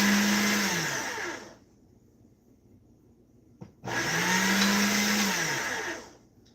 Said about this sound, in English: I'm going to run this through my pasta machine again